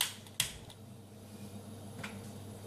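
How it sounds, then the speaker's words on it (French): A gas stove burner clicks and catches under a wok already holding a little olive oil, giving a sharp snap of ignition followed by a softer tick and a low steady hiss of flame, faint and close. "Et voilà, j'allume mon feu."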